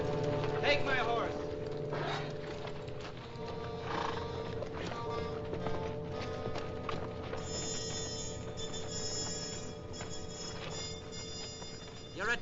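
Horse neighing with clip-clopping hooves at an Old West camp, set under steady background music with no speech; a whinny stands out early, then hoofbeats continue through the middle.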